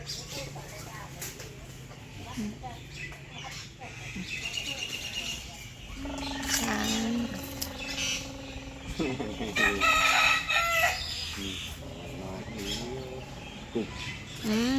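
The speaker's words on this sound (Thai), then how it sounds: "ไก่อยู่ที่นู่นเลย" A rooster crows several times at a Thai temple, loud and close, its calls rising over a busy outdoor background with voices chatting and other birds chirping nearby.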